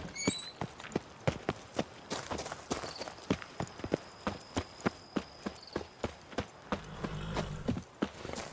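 Hooves of Roach, a horse in the video game The Witcher 3: Wild Hunt – Blood and Wine, clip-clopping in a steady walking rhythm of sharp, close strikes, with a soft rumble of ambient game sound underneath.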